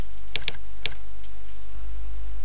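Typing on a computer keyboard while entering school data in timetable software: a few sharp, close key clicks in a quick burst, then a couple of fainter taps and a quiet pause.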